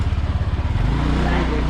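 A motorcycle riding on the road, its engine putting out a close, loud, rapid throbbing that settles into a steadier drone, with wind rumble and a voice talking over it.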